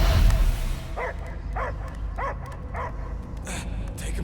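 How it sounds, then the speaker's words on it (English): A dog barks in the Guardians of the Galaxy video game, a run of regular, evenly spaced barks over a dense rumbling game background. "I hear only barking."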